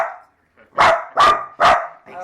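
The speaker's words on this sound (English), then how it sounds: "Big scary guard dog." A guard dog barking at home, three loud, sharp barks in quick succession close by, preceded and followed by softer vocal sounds.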